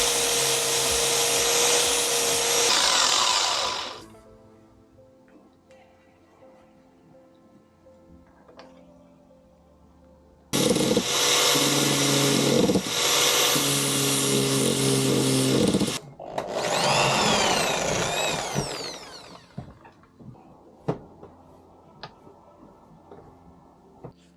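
A loud, close rotary tool whines in two long bursts as it trims thick plastic on a motorcycle mirror stem and cuts a hole, separated by a quieter pause with small knocks and ending in light taps.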